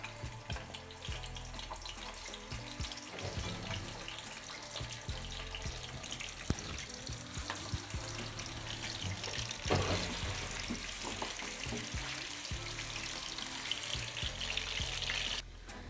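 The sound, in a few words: chicken frying in warm oil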